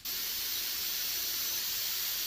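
An airbrush loaded with paint and thinner sprays in a sign-making workshop, a loud continuous hiss of air starting abruptly and holding steady close up, with no voices.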